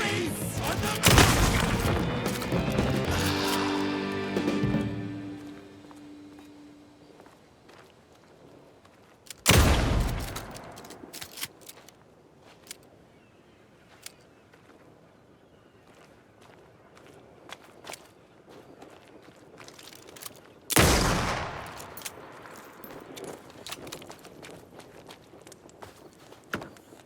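Video game gunfire comes as a dense, booming volley at the start, then two isolated heavy blasts several seconds apart, with quieter rustling and footstep-like sounds between them.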